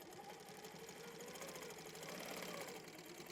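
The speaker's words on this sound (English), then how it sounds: "Okay, let's stitch." A Handi Quilter longarm quilting machine stitches along a ruler, a steady, fast mechanical whir with a continuous rhythmic chatter, close and even throughout with no talk.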